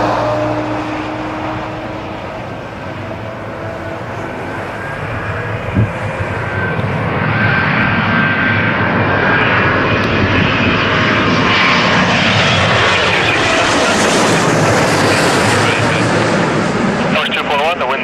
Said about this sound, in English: You're following a 777 just touching down.